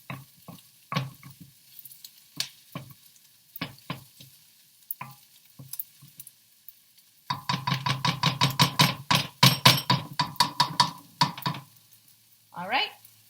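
Omelette scramble ingredients in a frying pan: scattered clicks and scrapes at first, then a burst of rapid stirring and scraping over a soft sizzle, ending with a brief squeaky swipe.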